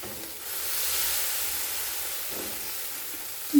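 Rice batter sizzling in hot ghee in a pan, a steady soft hiss of frying that holds level throughout, ending with a brief sharp clink at the close.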